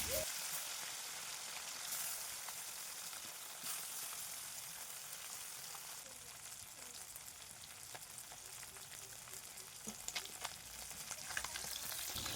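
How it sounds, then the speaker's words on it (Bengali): Puti fish sizzle and crackle steadily in hot mustard oil in a kadai, a dense close frying hiss with occasional sharper pops, no voices. "কড়াইতে সর্ষের তেল দিয়ে তেলটা ভালোভাবে গরম হয়ে গেলে আমি পুঁটি মাছগুলো দিয়ে দেব।"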